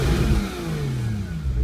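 A 2014 Porsche Boxster S, a dual-clutch car, revs up close with its exhaust button engaged, a loud continuous engine roar with rising and falling pitch and no voices.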